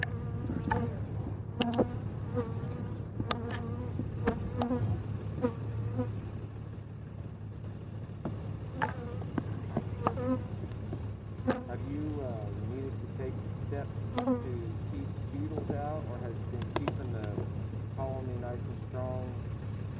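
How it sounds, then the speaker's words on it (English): Honey bees being picked up from a seller for transport in a truck, a steady close buzzing hum running throughout, with individual bees whining past the microphone and people talking over it. "We gotta get these bees out of the truck and set up"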